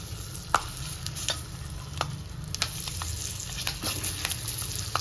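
Stuffed capsicum-style green chillies frying in a little oil with roasted gram flour, a steady close sizzle broken by scattered clicks and scrapes of stirring, with no talk.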